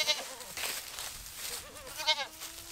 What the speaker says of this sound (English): These Spanish Chico goats.